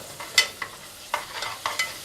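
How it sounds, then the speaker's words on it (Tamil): Ginger garlic paste sizzling in a pan while being stirred for tomato rice, with a few sharp scraping strokes over a soft frying hiss, close by and without talk. "இஞ்சி பூண்டு பேஸ்ட்டு சேர்த்துட்றேன்"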